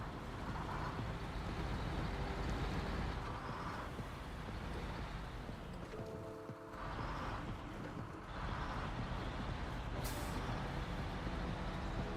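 A highway truck without off-road tires or diff lock, driven in the video game SnowRunner, gives a loud continuous engine roar with rumbling road noise, a brief dip and a short air-brake hiss.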